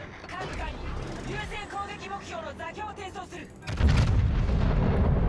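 The battleship Musashi fires a heavy turret salvo in World of Warships, a deep rumbling boom that swells after a stretch of talking and continues loud, with a voice speaking over the start.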